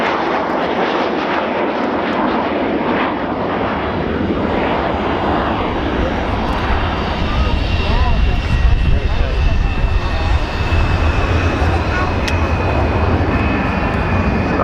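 Avro Vulcan XH558 jet bomber passing over the runway at the Dunsfold Wings & Wheels airshow, a loud, steady roar that swells toward the end with a high whine, under a commentator's voice.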